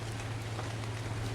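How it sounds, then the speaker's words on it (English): Steady in-game rain falls on the Ragnarök map of Ark, a constant even hiss with a low hum beneath, continuous and moderately loud for the whole stretch, with no talk. "Of course, it's Ragnarök, so it's always raining."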